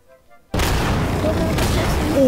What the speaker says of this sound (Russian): здесь есть просто, не просто мега-бомбы, они очень сильно взрываются